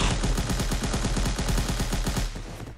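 Rapid automatic gunfire from an Unreal Engine zombie shooter game, a dense, steady burst of loud shots at an even, fast rhythm lasting a few seconds with no talking.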